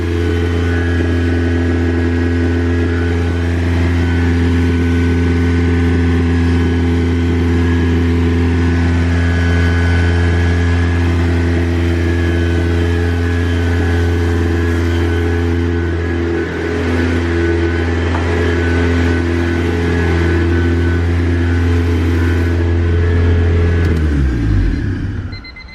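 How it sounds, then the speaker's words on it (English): A turbocharged Honda Civic engine idles too high after its idle air control was repaired, holding a loud, steady droning rumble with strong low hum and constant tones before the revs drop away abruptly at the end. "So now that the idle air control is actually working, it's idling too high."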